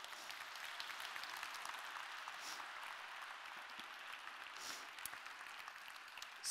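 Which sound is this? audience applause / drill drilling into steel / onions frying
audience applause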